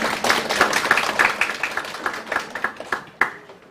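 Scattered applause from a modest crowd at a food policy forum in Gyeonggi, South Korea, brisk at first and then thinning out over a few seconds.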